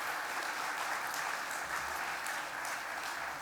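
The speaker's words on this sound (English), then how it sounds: "round of applause." Steady applause fills a room at the Jelly Bean Ball charity fundraiser, a dense wash of many hands clapping at moderate distance without any pause, and no one speaking over it.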